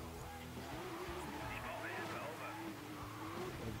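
Chevrolet Corvette driving in Need for Speed Most Wanted, a steady engine drone with a wavering pitch and a hint of tire noise, running continuously under a talking voice.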